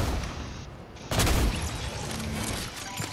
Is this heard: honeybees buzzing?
no